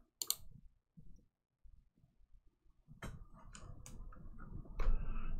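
A computer mouse clicks to save a file with a single sharp, close click, followed by faint scattered desk noises and a denser patch of clicking and clatter.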